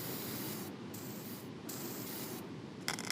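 Brake cleaner is sprayed onto the gear set of an old Ford Galaxie rear end, a steady close aerosol hiss with brief pauses between bursts.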